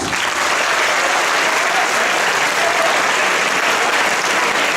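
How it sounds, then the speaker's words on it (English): Sustained audience applause at a school Shakespeare competition awards ceremony in Sri Lanka, greeting a visiting director and judge, a dense, even roar of many hands clapping throughout with no talk over it. "Ladies and gentlemen, a round of applause to Mr. Chris White."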